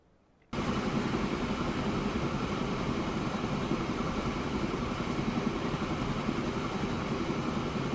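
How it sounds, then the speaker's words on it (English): A train pulls into a station in the video game Transport Fever 2, a steady mechanical rumble that starts abruptly and continues at an even level with no voices. "here we are, about to pull in with train number 4"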